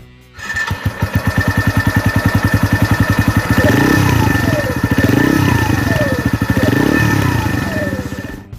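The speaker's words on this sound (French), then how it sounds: "le tout orchestré par un échappement un peu sonore qui met l'ambiance" A Keeway RKV 125 motorcycle engine starts up with a fast, chugging idle, then revs up and down loudly through a throaty exhaust, close by.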